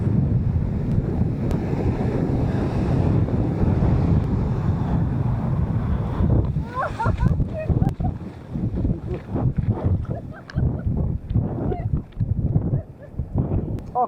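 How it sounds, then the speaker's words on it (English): Strong wind buffets the microphone on a beach, with choppy sea waves breaking beneath a steady roar; a voice talks intermittently over the gusts in the later part. "you can still see some spray coming off the sea where it's really windy"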